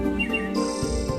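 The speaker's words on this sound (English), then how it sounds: "Belle heard the birds tweeting and twerping." Bright bird chirps and tweets rise over a sustained tonal musical backdrop in a children's toy train story, close and continuous for a brief moment.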